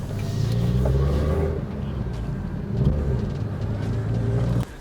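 A 1.8-litre 16-valve car engine with a manual gearbox idles nearby, a steady low rumble with a slight rise partway through before it cuts off at the end.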